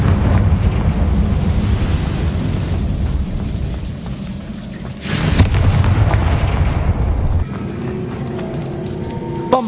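Crackling fire-blast explosions from the Confringo spell in Hogwarts Legacy, heard in an old room up a disused staircase. Loud, dense rumbling bursts rise, dip and rise again over about ten seconds, with a sharp crack partway through.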